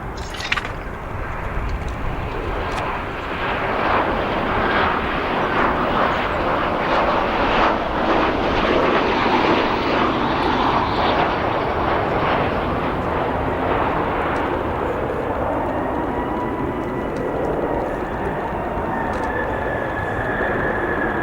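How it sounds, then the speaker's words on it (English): An American Airlines Boeing 737-800 from Boston lands on runway 10 Center at O'Hare, its loud, continuous jet roar building and holding close before slowly easing off, with no talking. "our next arrival here on 10 Center is 737-800 coming in from Boston, operated by American Airlines."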